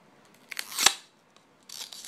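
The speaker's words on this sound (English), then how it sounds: "I found some scissors, so let's do some damage with these" Scissors snip at a disc in two bursts: a sharp, loud crunching cut near the start, a short pause, then a softer second cut, all close-up with no voices.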